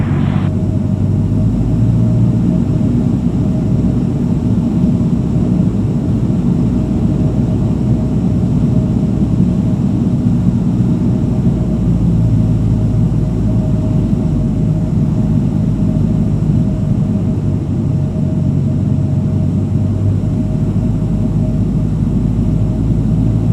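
A small plane's piston engine and propeller drone steadily inside the cabin on a solo landing approach to runway 23. The hum is loud and unbroken, with no talk over it.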